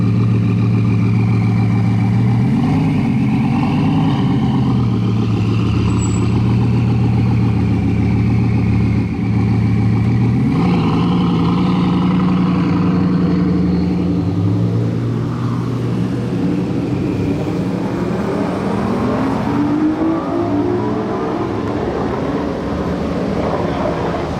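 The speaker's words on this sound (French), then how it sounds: "Insolent l'Aston V12 Speedster là" An Aston Martin V12 Speedster engine rumbles loudly and continuously, with pitch swells as it is revved and moves, set against a busy street atmosphere during the Monaco Grand Prix.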